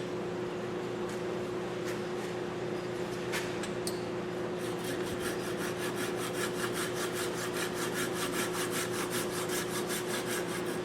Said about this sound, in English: So I'm going to go ahead and get the saw and just saw that off.